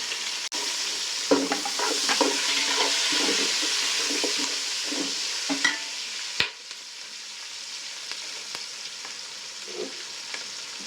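Onions sizzling in hot oil for egg pulao, a steady frying hiss with repeated scrapes and knocks of a spoon stirring the pan, one sharp clack, then a quieter, calmer sizzle.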